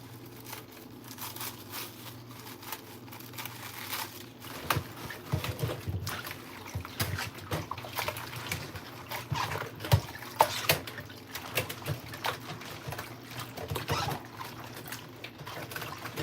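Napa cabbage is rinsed by hand in water, giving close, irregular splashing and pattering with scattered sharper drips and swishes over a quiet background.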